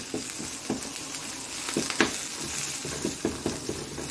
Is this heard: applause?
no